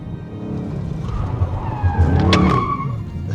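Car tires skid and squeal loudly over a revving Ford Mustang GT Performance Pack engine as the drift brake is applied, the screech rising sharply near the middle before trailing off.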